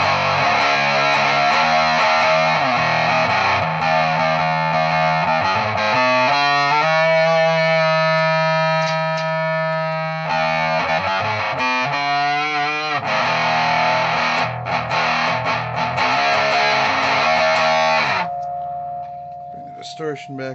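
An electric guitar plays through a Boss fuzz pedal on the neck pickup, volume around half and tone rolled off, producing thick, saturated sustained notes and chords throughout with a warm, dark edge.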